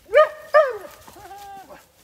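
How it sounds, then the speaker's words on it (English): On a farm trail, a dog close by gives two sharp, high yips and then a drawn-out whining cry, loud against a quiet outdoor background. "You're a dog."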